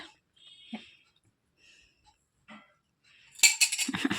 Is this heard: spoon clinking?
yes